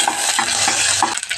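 Onion, green chilli and curry leaves frying in hot oil while being stirred, a steady close sizzle with repeated scraping stirs of a spoon in the pan.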